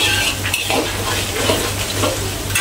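Shallots (bawang merah) fry in a pan with a steady sizzle, while utensils stir and scrape against the cookware close by throughout.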